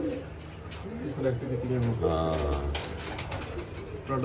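Pigeons coo in soft, low repeated calls close by, while people talk over them.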